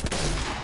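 Video game gunfire rattles in a dense, continuous burst, loud and close, filling the whole brief moment with no voices over it.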